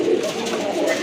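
Black-necked Giribaz pigeons coo in a low, throaty warble, loud and close, filling about a second before cutting off abruptly.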